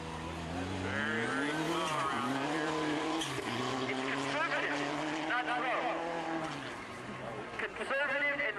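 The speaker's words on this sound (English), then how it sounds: "This is an Evo 10, the only one in competition today." A Mitsubishi Evo 10 rally car's engine roars and shifts pitch as it races past at the 2009 STPR Rally, with a commentator talking continuously over the motor noise.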